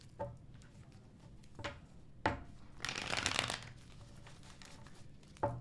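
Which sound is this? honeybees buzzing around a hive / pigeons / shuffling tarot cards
shuffling tarot cards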